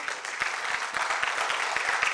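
An audience at a business talk about advisory services applauds steadily, with dense continuous clapping and a few sharper individual claps standing out, fairly loud and with no talk over it.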